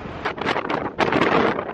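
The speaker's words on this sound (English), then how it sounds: "It's too windy." Strong wind on the deck of a ferry arriving at Busan port buffets the microphone in loud rushing gusts, roaring steadily with a brief lull midway.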